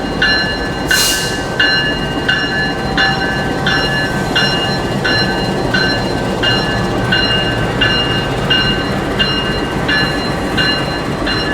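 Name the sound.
CC206 locomotive of Ranggajati train shunting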